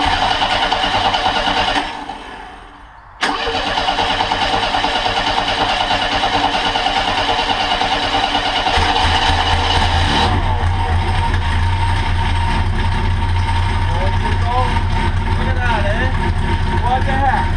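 A monster trike engine runs after a carburetor rebuild, with a loud steady mechanical drone that cuts out briefly, restarts and settles into a deeper running rumble, with people talking over it.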